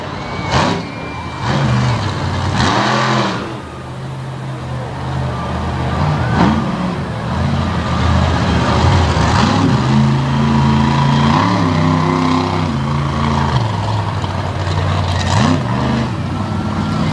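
Monster truck engine at a Renegade event in Abbottstown, Pennsylvania, revving hard and surging in loud sustained waves, with heavy landings and crashes into a stack of buses breaking through the roar.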